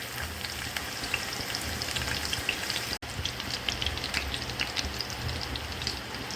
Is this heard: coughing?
no